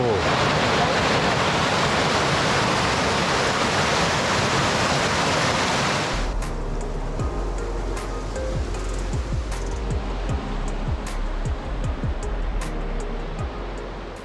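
Water of the Glijun karst spring in Slovenia rushes with a loud, dense broadband roar for about six seconds before giving way to quieter ambience scattered with sharp clicks.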